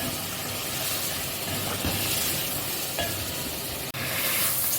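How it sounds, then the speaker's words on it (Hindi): Garlic sizzles and fries steadily in a pan for a chicken korma, a dense continuous hiss with faint stirring clatter, close and fairly loud throughout with no talking. "अब हम लहसुन को फ्राई कर रहे हैं।"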